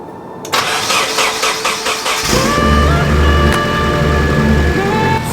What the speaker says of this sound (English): started up first time.